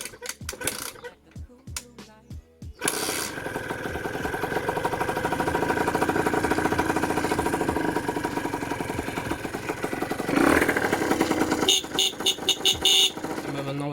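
Yamaha DT motorcycle engine, after a few clanks, starts up and settles into a steady rattling two-stroke idle, close by, with a blip of revs near the end.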